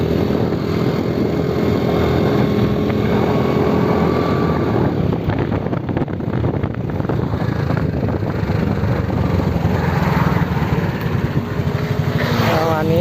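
A motorcycle engine is revved repeatedly during a test ride at a shop, throttle blips rising and falling loudly over steady wind buffeting, with someone talking over it.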